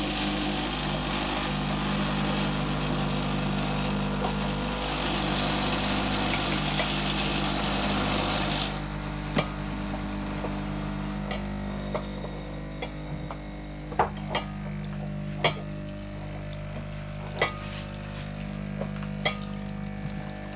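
A DeLonghi coffee machine brews coffee for a latte: a loud, steady pumping roar for several seconds cuts off abruptly into a low hum with scattered clicks and ticks.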